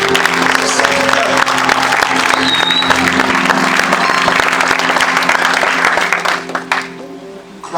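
A church congregation applauds in a hall, sustained dense clapping from many hands that holds steady and then tapers off near the end.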